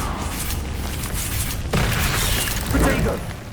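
Fiery Confringo spell blasts in the Hogwarts Legacy video game, a dense booming burst around the middle followed by a second louder crackling blast, over continuous game noise with voices present.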